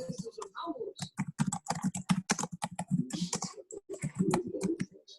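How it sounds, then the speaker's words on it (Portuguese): Rapid clicking of keys on a computer keyboard, close and continuous, in quick irregular bursts while a person talks over it. "Estou intrigado com esse barulho de digitação."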